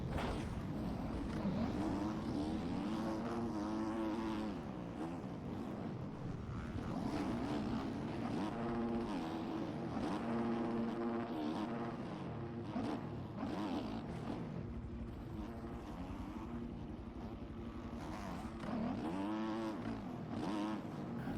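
A pack of motocross bikes in the MX Bikes video game rev at a Daytona race start, a dense layered buzz of engines rising and falling for about twenty seconds.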